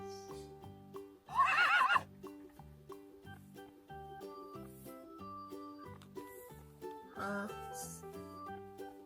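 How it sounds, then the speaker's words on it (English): A horse neighs twice in a children's farm animal sound game, a loud shrill whinny near the start and a shorter one later, over a plucky, bouncing musical backing. "now we have to find the horse first"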